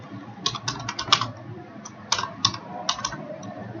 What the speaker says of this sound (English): So I think I'm just going to type from here.